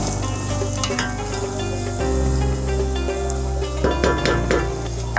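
Onions sizzling and frying in oil in a pan while being stirred, a steady loud sizzle with occasional scraping and clinks of a utensil against the pan, no talking.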